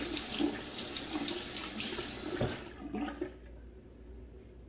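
Tap water runs into a shaving soap puck during a travel shave with Barrister and Mann Classic Reserve, a close, splashing stream that flows for a couple of seconds before cutting off, leaving a faint quiet tail.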